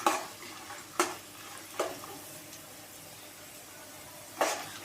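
Chana dal frying lightly in a pan of hot oil, a faint continuous sizzle broken by a few sharp spatula scrapes and taps against the metal.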